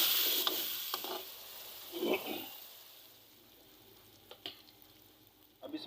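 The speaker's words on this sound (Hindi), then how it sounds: "टमाटर डाल के इसे सौते करना है" Chopped tomatoes being sautéed in a pan for dhaba-style daal mash: a quiet, low sizzle with a few sharp stirring clinks and scrapes spread across the stretch, fairly faint, with no speech.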